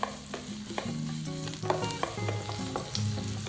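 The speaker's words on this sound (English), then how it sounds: "After that, stir fry the onion until it's becoming soft." Onion stir-frying in oil in a hot pan sizzles steadily, close up, with a few spatula scrapes and knocks against the pan. No voices.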